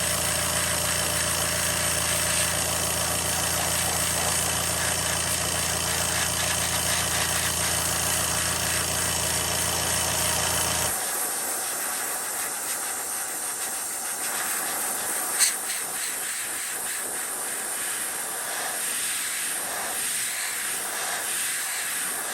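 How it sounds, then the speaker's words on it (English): Loud, steady blowing hiss of cold air drying fresh paint on a Magnum S-Crank fishing lure, running for about eleven seconds and then cutting off, leaving a quieter fainter hiss with a small click. "And I just blow the cold air on it."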